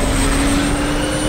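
An airplane roars during takeoff with a loud, steady, broadband engine rumble and a constant whine. It is close and unbroken throughout, with no voices over it.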